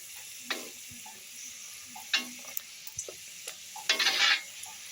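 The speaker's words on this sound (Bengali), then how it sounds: "দেখো এইভাবে আমি একটা কচুরি ভেজে নিলাম।" Pea kachori fries in refined oil with a soft, steady sizzle. Scattered scrapes and clicks come from turning it, and a louder bubbling burst rises near the end.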